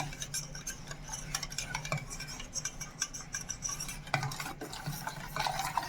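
A powdered milk mixture for junnu stirred briskly in a bowl, with a quick run of close clinks and scrapes from a utensil and no voices.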